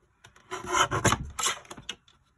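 A folded paper card has its edge trimmed, a close dry rasping and scraping run of short strokes lasting about two seconds, with quiet before and after.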